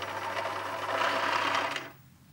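Sewing machine running its bobbin winder to fill a bobbin with thread, a steady, close whirring hum that cuts off abruptly near the end.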